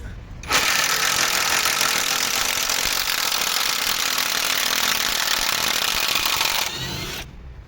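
A loud, continuous rattling hammer of a Grosser cordless impact wrench unscrewing a bolt runs for several seconds, starting and stopping abruptly.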